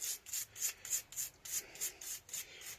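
A brush scrubs grease and goo off Honda CB250RS motorcycle parts into a pot, making steady rhythmic rasping strokes, about four per second, close and quiet.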